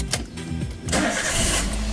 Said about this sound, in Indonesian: Nah, kita coba starter teman-teman.